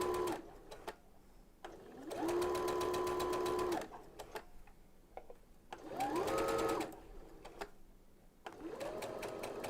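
A sewing machine fitted with a gathering (double shirring) foot stitches fabric in loud, rapid whirring bursts of a few seconds each, separated by brief pauses, with the motor pitch rising and falling as each run starts and stops.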